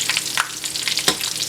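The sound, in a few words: frying dry prawns in oil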